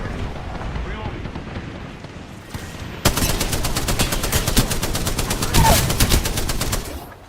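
Fortnite gunfire erupts about midway as a loud, rapid stream of shots that keeps going to the end, layered over a busy game backdrop.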